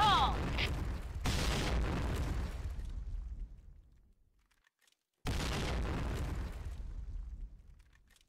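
Grenade blasts in a video game clan war: a broadband boom at the start and a second burst around five seconds, each decaying into a rumbling tail, with a short quiet gap between them.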